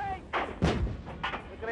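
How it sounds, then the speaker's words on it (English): Artillery fires rounds from its tube, giving a few dull, booming thumps in quick succession, moderately loud and fairly distant-sounding, with no speech. "when artillery is able to shoot the first round out of its tube"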